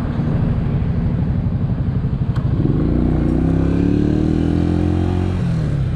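Italika DT 125 delivery motorcycle being ridden, a near, loud single-cylinder putter that rises in pitch as it accelerates and then holds a steady engine drone, with faint rattle.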